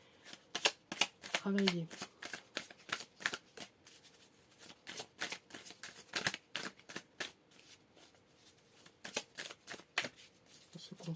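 Tarot cards are shuffled in quick riffling bursts, followed by rhythmic flicks and slaps as the deck is cut and handled, with a voice speaking briefly.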